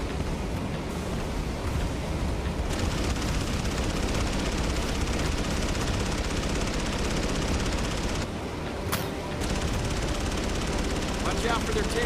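Aircraft machine guns in Battlestations: Midway fire in dense, sustained bursts over a constant roar of engines and wind, briefly dropping out before resuming, loud and close.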